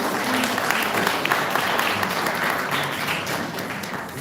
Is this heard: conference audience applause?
yes